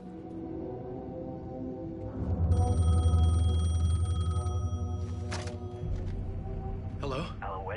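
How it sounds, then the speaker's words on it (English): A payphone in the video game Alan Wake 2 rings as a steady electronic trill over droning, ominous game ambience. Sharp clicks and rattles break in near the end. "payphone was ringing"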